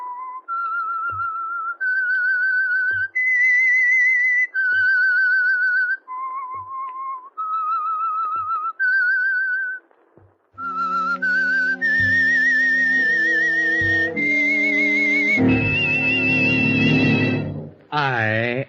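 The signature whistled theme of the 1947 radio drama The Whistler: a lone whistled melody, clear sustained notes with small pauses between phrases, then brighter, louder orchestral music takes over near the end, close and in the open with no talk over it.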